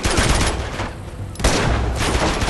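Gunfire in the video game Uncharted 2: loud, dense bursts of shots crackle steadily, ease off briefly in the middle, then resume at full strength.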